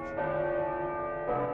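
Church bells ringing in the video game Uncharted, a steady, sustained metallic tone with rich overtones that swells slightly in two strokes, loud and alone.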